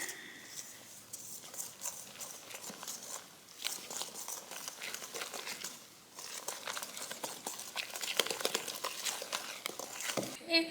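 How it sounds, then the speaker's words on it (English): A whisk beats beer batter made with Blue Moon beer, flour and ice water in a bowl, giving a quick, soft rhythmic clatter and patter that runs steadily at close range. "Whisk that in."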